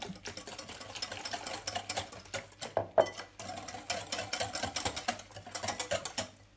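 Egg, sugar, vanilla and milk mixture stirred briskly in a bowl for French toast, a steady rapid clicking and tapping of whisk against the sides, close and continuous with brief pauses.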